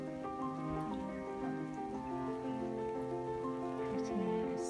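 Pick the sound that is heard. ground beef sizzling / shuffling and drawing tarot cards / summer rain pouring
summer rain pouring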